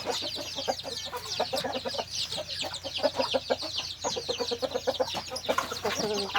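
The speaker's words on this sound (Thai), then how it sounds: "ตัวนี้ไก่เชิงนะครับ ไก่เชิงตัวนี้" Busy clucking of chickens, including gamefowl, in a rural yard at morning feeding, several birds nearby chattering in short irregular bursts with occasional higher squawks, continuous throughout.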